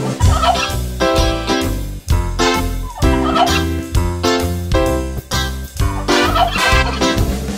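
Turkeys gobble within a children's French autumn nursery rhyme, their rhythmic gobbles blended into a bouncy, loud musical accompaniment.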